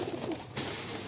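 Pigeons in a breeder's loft coo briefly, a soft low throaty call heard close and faint with no talking.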